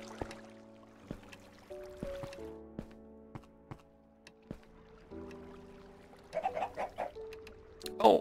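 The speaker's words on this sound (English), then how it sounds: "I managed to get some chickens." Chickens cluck in the Minecraft modpack Agrarian Skies 2, faint and scattered over soft, sustained game tones, with a short burst of livelier clucking near the end.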